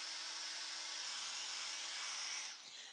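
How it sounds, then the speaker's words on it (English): A cheap hair dryer blows steadily on a freshly painted textured chalk-paint bowl, a close, even whooshing hiss that holds for a few seconds before dipping slightly at the end, no talking. "So just hitting it with the world's most expensive hairdryer again."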